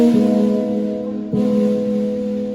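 A short repeating guitar riff, two matching phrases of sustained plucked notes ringing over a low drone, steady and fairly loud with no voices.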